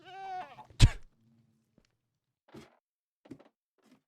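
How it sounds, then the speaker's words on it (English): A Minecraft screaming goat lets out one wavering bleat, then a sharp thunk, followed by a few faint scattered knocks and footstep-like taps in near silence. "That's a screaming goat"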